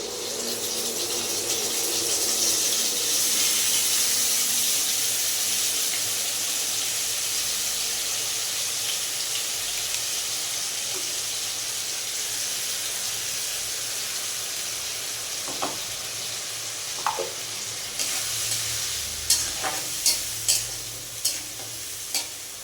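A ground paste of ginger, tomato, coriander, cumin and chilli cooking in a hot pan, a loud continuous sizzle that slowly fades, then several sharp stirring taps near the end.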